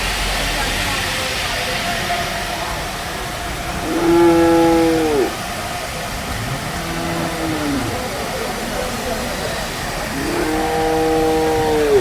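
Cattle, bulls and buffaloes at the Chelari market give two long, drawn-out moos, one in the middle and one at the end, over a steady bed of crowd and market noise.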